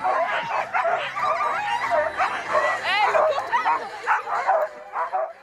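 Sled dogs at a sled dog race bark, yip and whimper excitedly near the start, a dense overlapping chorus with a brief human voice.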